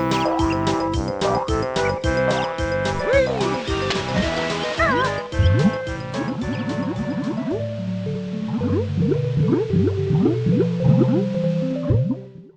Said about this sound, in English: Or when you go into the water, it turns into a water version.